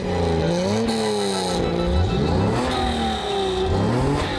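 A Mercedes-Benz 300 SL from 1954 with a 3-litre inline-six engine, revving hard and close, its pitch climbing and dipping through several throttle surges, with no talking.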